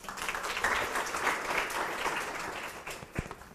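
Applause from participants in a coaching course for teachers at Universidad Miguel Hernández de Elche, a moderately quiet, fairly brief burst of group clapping that tapers off toward the end.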